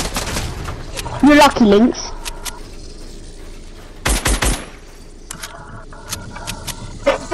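Bursts of gunfire spraying in Fortnite during a 1v1 zone wars match: two short loud clusters of rapid shots, one early and one midway, with a voice talking over the first.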